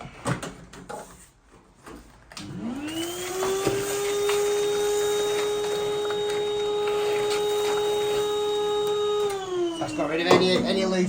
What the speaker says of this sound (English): Get Hoover in it.